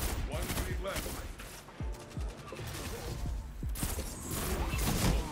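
Video-game gunfire rattles in rapid bursts as players shoot down a Titan's shield in Destiny Trials, with sharp repeated shots, mechanical clicks and dense layered fire throughout.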